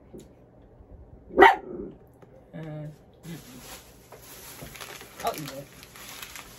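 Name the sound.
dog barking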